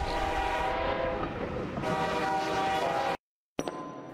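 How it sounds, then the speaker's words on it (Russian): A train passes in the video game Suicide Guy, a steady loud rolling rumble with a sustained horn-like tone, then a sudden cutoff to silence followed by a brief return of noise. "еще один поезд. Отлично."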